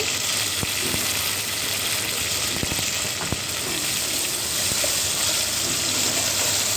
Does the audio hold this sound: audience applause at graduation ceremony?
no